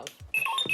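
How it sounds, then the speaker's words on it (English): An R2D2 alarm clock toy sounds off with short electronic beeps and warbling chirps, close and moderately loud, filling most of this brief moment after a quieter start. "This is the alarm clock, R2D2."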